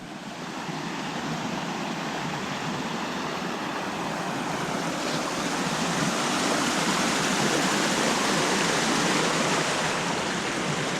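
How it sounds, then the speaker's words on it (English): A stream crossing on the Timberline Trail on Mt. Hood, its water rushing in a loud, steady, broadband roar that swells slightly, continuous and close with no voices. "You can hear the water flow."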